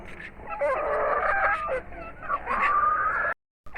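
Aseel cross hens and young chickens make a busy close cluster of clucks and squawky calls, one longer crow-like call near the end, with faint voices in the background.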